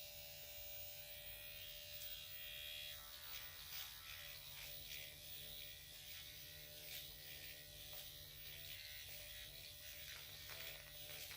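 A personal skin needling machine hums with a faint, steady electric buzz that stays even and close throughout, with no voices.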